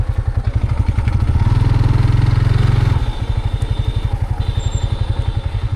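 Motorcycle engine running steadily and loud throughout, a rhythmic chugging that briefly swells as the bike is ridden, probably along a muddy village road.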